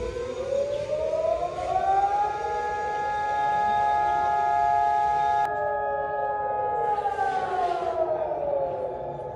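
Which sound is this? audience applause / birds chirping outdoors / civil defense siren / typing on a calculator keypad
civil defense siren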